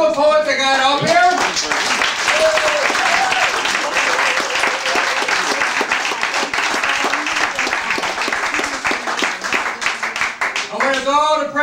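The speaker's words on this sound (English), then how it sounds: "Here's applause for all the poets I got up here." An audience at a poetry slam in a literary cafe breaks into loud, sustained clapping and cheering for the poets, with a voice heard talking over the start and again as the applause fades.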